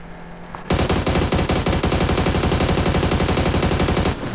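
Gunfire in the video game PUBG: after a short quiet start, a loud, dense burst of rapid automatic fire runs without a break for over three seconds, then cuts off.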